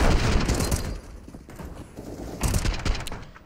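Rapid bursts of gunfire from a CS:GO match on the Mirage map, loud and dense throughout, with a brief dip in intensity before another heavy volley.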